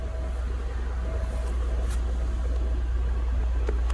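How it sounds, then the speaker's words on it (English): A Lincoln Mark VIII that had sat for five months idles very quietly, a smooth, low, steady engine hum that runs throughout with little change, faint and even from start to finish. "You can barely hear this car run."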